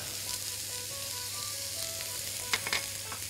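Garlic, a stock cube, thyme and rosemary sizzle steadily in a hot pan for shepherd's pie, with a few brief scrapes and clinks of stirring near the end.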